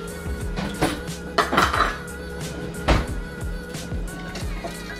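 Waffle batter for protein waffles is mixed with a spoon in a bowl, giving clinking and scraping knocks of metal on dish at an uneven pace with a low background hum.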